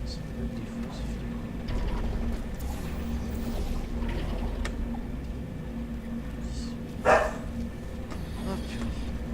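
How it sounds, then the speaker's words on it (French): Dogs bark in the background during a Portal 2 gaming session, with a brief sharper yelp near the end, mixed into steady background noise and a low hum. "C'est génial quand les chiens aboient."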